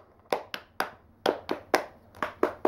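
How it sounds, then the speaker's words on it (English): Roughly ten hand claps, close and sharp, spaced unevenly with short pauses between bursts and no voices. "Let's do a one take clap!"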